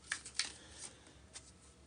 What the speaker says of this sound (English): it is almost time for me to do the bridge shuffle